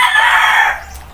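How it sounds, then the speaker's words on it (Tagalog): A rooster crows once, loud and close, a single sustained call that breaks off and fades out. "Salamat nakaabot diri ni mong manok."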